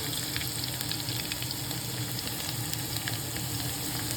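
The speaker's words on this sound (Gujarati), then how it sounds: "હવે આપણે લસણ થોડું ગોલ્ડન બ્રાઉન થાય ત્યાં સુધી રાખીએ અને પછી અંદર જવા દઈએ" Garlic frying in hot oil in a pan, a constant close crackling sizzle with faint stirring, alone without speech.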